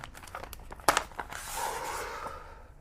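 Paper is handled and crumpled close by, with a sharp crackling rustle early on that turns into a longer, steady crinkling as the sheets are squeezed, and no voices.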